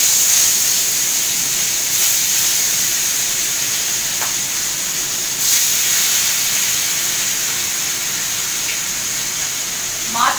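Fish frying in hot oil in a home Bengali kitchen, cooked with little oil: a steady, close sizzling hiss that runs throughout, with a couple of brief louder swells.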